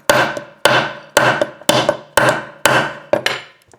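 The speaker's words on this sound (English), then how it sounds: "maybe if I hammer on it" A gallium-treated padlock is struck by a hammer, giving seven sharp, loud metallic whacks at a steady rhythm of about two per second, each ringing briefly before the next, with no voices.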